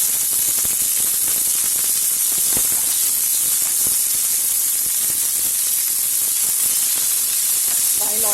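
Green chilies and spring onion whites hiss and sizzle steadily in a hot pan while being tossed for cauliflower Manchurian, a continuous close frying noise with faint clinks.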